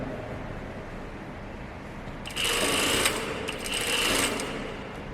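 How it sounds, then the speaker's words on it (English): After a quiet start, a sewing machine stitches an elastic-waistband pair of pants in two close, loud, whirring bursts separated by a brief pause. "Lining up the edges, pulling and sewing, that's our trick here."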